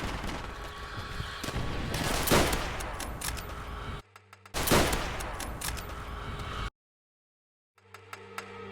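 Dense bursts of gunfire in the World at War video game, including sniper rifle shots, loud and close with sharp cracks, cut by abrupt gaps of silence.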